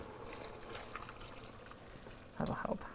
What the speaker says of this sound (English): And then 2 cups of water.